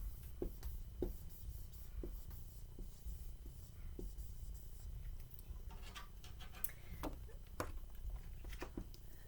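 Marker or chalk writing a word on a classroom board, heard as faint, close taps and short strokes scattered through the quiet, with a quicker cluster of scratches toward the end.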